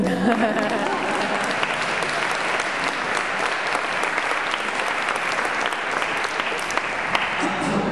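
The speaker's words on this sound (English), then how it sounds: "Usually at that time, people applaud." Audience applause fills a public transport forum on complete streets in Montreal, a dense, steady clapping from a large crowd that runs the whole time at close range without letting up.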